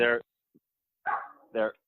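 A dog barks a few times close by during a live podcast recording, short sharp barks separated by pauses, the last one tailing into a whine.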